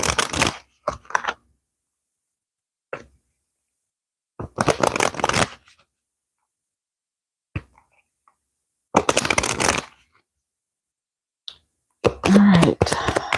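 A tarot card deck shuffled in several separate bursts of riffling and flicking, close and crisp, with silent gaps between them and no talk.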